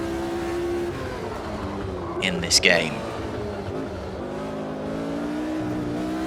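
A vintage-era F1 race car engine in the Automobilista 2 racing game, a steady buzzing drone at constant revs that carries throughout under someone talking, with a short burst of higher engine or tyre noise near the middle.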